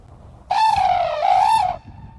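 A single drawn-out bird call in misty rain, a loud, clear, harmonically rich trumpeting note lasting just over a second and heard alone against quiet ambience.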